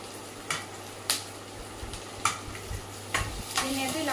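Food for a black-eyed pea guggillu snack stirred in a pan with salt and turmeric: soft sizzling under repeated scraping strokes of a spoon, a handful of distinct stirs over a few seconds.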